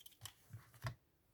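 Scissors snipping paper for a bullet journal, three short crisp cuts spaced about a third of a second apart, close and quiet, no talk.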